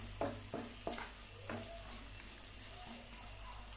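Chopped onion sautés in oil with cumin over a low flame for mushroom fried rice, a quiet steady sizzle under several light spoon taps and stirs early on.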